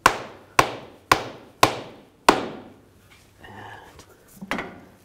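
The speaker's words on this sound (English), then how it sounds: "you can use a rubber mallet or a plastic dead blow and just give it a tap" A rubber mallet taps a CV axle into place on a 2003-10 BMW X3, five sharp, evenly spaced blows close by, followed by quieter shuffling and one softer knock.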